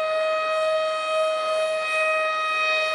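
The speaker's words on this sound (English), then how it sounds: "these sounds are a warning that there's a tornado near your area" A tornado warning siren wails as a sustained, steady tone with a bright harmonic edge, holding evenly throughout without pause or voices.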